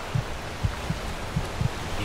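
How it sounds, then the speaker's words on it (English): Heartbeat effect in the video game Enderal, low soft thumps in pairs repeating about every half second to second, faint and steady over a quiet ambient hum, with no talking. "so I can stop this heartbeat sound effect"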